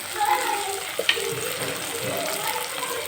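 Spices with turmeric and chili powder frying for an egg curry alongside tomato and onion, giving a steady close sizzle with a faint scrape or tap, and no one speaking.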